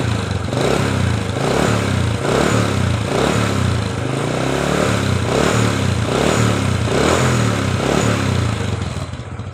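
A 19-year-old original Honda Supra Fit motorcycle engine revs repeatedly, loud and close, in steady rhythmic throttle pulses with a chattering idle between them.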